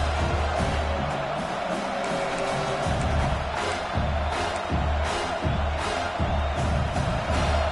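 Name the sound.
football stadium crowd cheering for the defense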